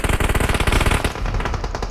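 Rapid machine-gun bursts in a multiplayer shooter video game, loud and dense for about a second, then thinning into scattered shots.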